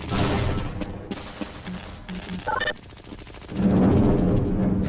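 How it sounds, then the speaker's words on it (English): Sentry guns in the game Half-Life: Blue Shift fire a loud, sustained stream of rapid automatic shots, continuous rattling bursts broken briefly by a short electronic beep, with no voices. "Those are sentry guns."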